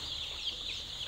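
Free-range country chickens and turkeys cluck in a continuous busy chorus in a flooded coop, close and dense over a low background rumble, with no talk.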